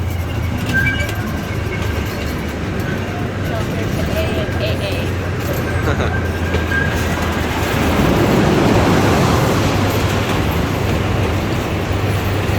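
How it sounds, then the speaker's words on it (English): Rumbling rail noise of a moving train carriage at the Indiana Beach amusement park with a steady low hum, while people chat nearby over the clatter. "We're on a train!"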